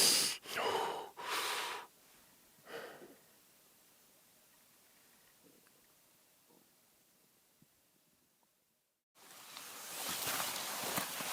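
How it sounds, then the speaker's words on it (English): A beaver breathes heavily at night by a lake, three loud huffing gasps close together, then quiet, then a long steady rush of breath-like noise. "you wouldn't think you could hear a beaver breathe"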